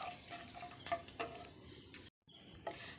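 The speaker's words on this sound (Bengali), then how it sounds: "দিয়ে খুব ভালো করে ভেজে নেব।" Whole cloves, cinnamon, cardamom and a bay leaf fry in hot oil with a faint, crackly sizzle and scattered small pops and ticks. It is close and quiet, and there is a brief dropout near the end.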